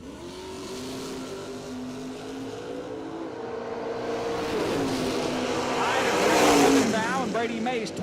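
A Camaro drag race car launches down the strip at an IHRA bracket race at Music City Raceway. Its loud, steady engine roar climbs in pitch as the car accelerates away.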